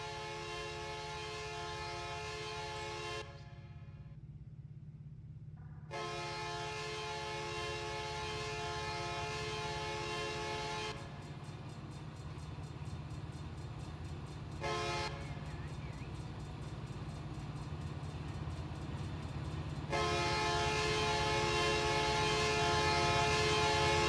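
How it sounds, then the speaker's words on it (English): A heavy freight train's horn in the Run 8 train simulator game on Cajon Pass sounds in long sustained blasts with short gaps between, loud and prominent over a low, continuous rumble of the train. "Sound on for the horn."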